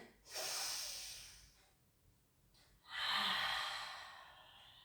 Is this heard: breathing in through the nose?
yes